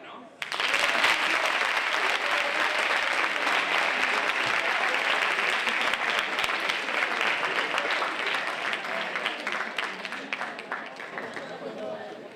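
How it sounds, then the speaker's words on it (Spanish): Audience applause at a university debating society final fills the room, a dense, steady roar of many hands clapping that rises sharply at the start and holds loud throughout, thinning slightly near the end. "Oye, un aplauso, ¿no?"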